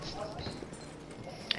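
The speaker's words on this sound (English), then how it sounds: "That horse." A horse's hooves clip-clop faintly in the Battlefield 1 video game during a PS4 Pro session, a few soft hoof steps buried under game noise with a sharp click near the end.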